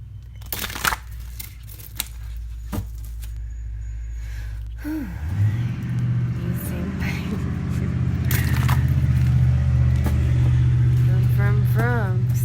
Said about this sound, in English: And that was a big white truck, by the way, that drove by.